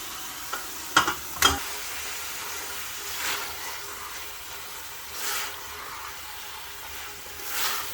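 Mutton mince frying in a pan with garlic and ginger, a faint continuous sizzle broken by a few sharp clanks early on and then several soft, spaced scraping strokes of the spoon.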